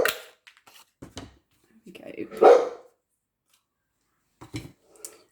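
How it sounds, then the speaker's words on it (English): Dog barking indoors in a home craft room, a few muffled barks in the background mixed with snipping scissors and brief speech. "Apologies for the dog barking."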